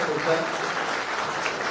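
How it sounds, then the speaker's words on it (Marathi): Applause from a crowd of attendees at a government outreach event in Kankavli, cheering students; steady, dense clapping fills the whole stretch under a loud, reverberant hall ambience. "जोरदार टाळ्या त्या विद्यार्थ्यांसाठी"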